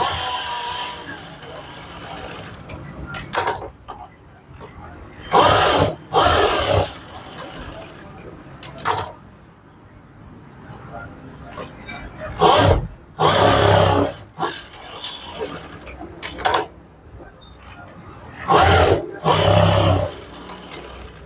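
A sewing machine stitches a puff sleeve in repeated loud bursts of a few seconds each, with quieter pauses between runs and a voice talking in the gaps.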